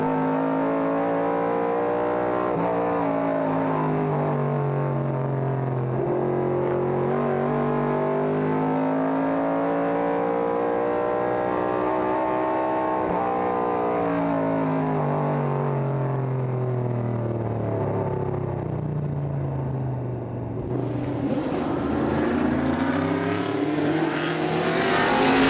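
Vintage race cars, including a 1971 AMC Javelin, Mustangs, a Shelby Mustang and a Camaro, roar around a circuit at a 2016 reunion race. A sustained engine drone rises and falls in pitch through shifts, and a sharper engine note cuts in near the end.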